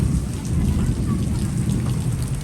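Heavy rain roars steadily while deep thunder rumbles underneath, a dense continuous storm wash close by.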